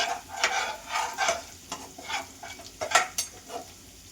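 Ginger and garlic frying in a pan for aloo kachori, with steady sizzling and repeated stirring scrapes in soft bursts throughout.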